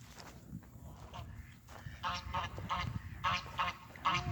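Loud honking calls from ducks repeat in short bursts, fairly close, over steady outdoor background noise.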